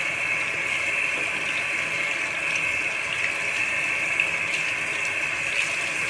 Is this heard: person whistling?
no